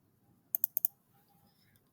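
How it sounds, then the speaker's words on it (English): A computer keyboard gets four quick, crisp keystrokes in a short burst, close and clear against a quiet room, followed by a couple of faint clicks. "So I'm going to type in here mid."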